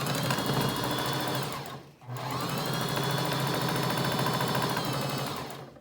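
A sewing machine stitching elastic onto a fabric face mask with a filter pocket, running in a fast, close, steady whir, pausing briefly once, then running again before stopping.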